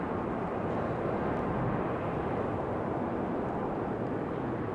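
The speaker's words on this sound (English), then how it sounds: "Southwest on a 737-800" A Southwest Boeing 737-800 airliner at Raleigh-Durham International Airport roars with a broad, steady engine rumble, loud and continuous with no breaks.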